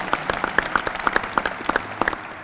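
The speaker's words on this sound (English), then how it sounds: "Round of applause." An audience at the 2013 Utah Sports Hall of Fame induction ceremony applauds, with sharp, distinct individual claps in a quick irregular rhythm, close and fairly loud in a hall.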